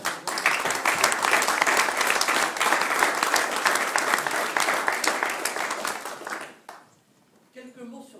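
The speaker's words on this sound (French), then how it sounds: "Donc j'aimerais que nous les applaudissions" An audience at an Ordre national du Mérite award ceremony in London breaks into sustained, dense applause for over six seconds, then it cuts off abruptly and a brief voice follows in near silence.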